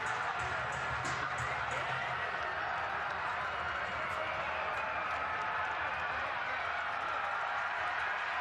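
Football stadium crowd noise at a Ball State at Northern Illinois college game on third down, a loud, steady roar of massed voices sustained throughout without letup.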